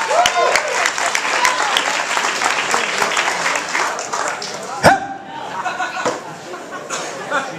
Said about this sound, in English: let's give her a round of applause right now